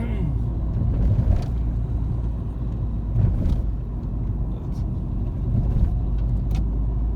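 A car with an exhaust emission fault climbs a ramp without strain, shifting through its gears: a steady, close, low engine rumble swelling slightly at each change, with faint voices underneath.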